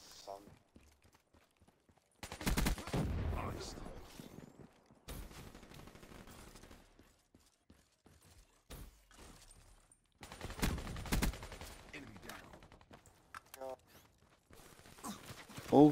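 Gunfire from an AK74-U in a shooter video game: loud bursts of rapid shots come in several stretches, separated by quieter gaps with faint background game sounds.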